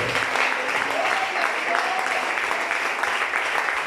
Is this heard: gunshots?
no